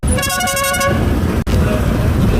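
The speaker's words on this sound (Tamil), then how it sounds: "டிராஃபிக்காக இருக்க தான் செய்யுது." Busy road traffic at the Guduvancheri signal during a bicycle ride: a vehicle horn honks loudly for nearly a second at the start, then engines and road noise rumble steadily close by.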